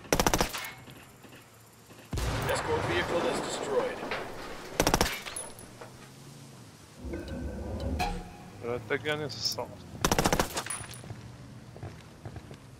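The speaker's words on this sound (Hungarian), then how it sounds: "Föntről lőnek." Machine gun fire in a video game comes in several loud, sharp bursts spread across the moment, with engine rumble between them and someone talking over the action.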